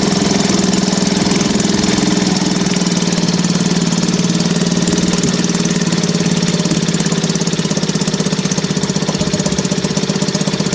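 A 1955 Elgin 2.5 hp outboard motor runs steadily and loudly, its engine note rough and uneven as it four-strokes, with a constant low drone and rapid irregular knocking throughout.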